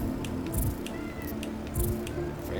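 A house cat meows a couple of short times, faint and close, over steady background noise from a game stream.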